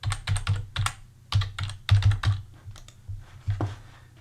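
Bursts of keystrokes on a computer keyboard while a short entry goes into a grocery list app, clustered taps with brief pauses between, close and fairly crisp.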